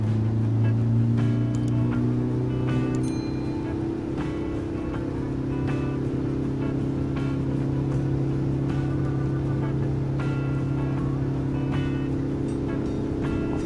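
A diesel car engine being decarbonized holds a steady, loud, droning rev with a strong low hum, while faint clicks and rattles come and go over the top.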